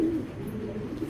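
A medium-bodied racing pigeon on a breeder's farm gives a soft, low coo, steady and close, with no talk.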